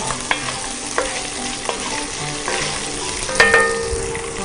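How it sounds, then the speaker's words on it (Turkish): Meat sizzles in a pan with garlic, a loud steady fry broken by sharp clinks and scrapes of a utensil stirring, one stronger clatter near the end, no talk. "Etimiz de yavaş yavaş pişiyor"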